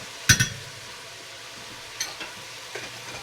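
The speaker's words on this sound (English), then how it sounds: "I'm going to go ahead and add the garlic." Minced garlic dropped into a pan for beer brats, giving a couple of sharp stirring clicks up front, then a faint, low sizzle with a few soft scrapes later on.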